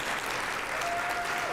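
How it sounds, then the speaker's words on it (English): A conference audience at an opening plenary session gives a sustained round of applause, a steady, dense clatter of many hands filling the room with no break. "Can you give yourselves a round of applause?"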